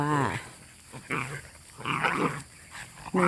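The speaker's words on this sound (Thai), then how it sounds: "เรามีน้องหมามาด้วยนะคะ" A mother dog and her puppies in a garden give a few short growls, whimpers and yips in separate bursts, fairly close, with quiet gaps between the sounds.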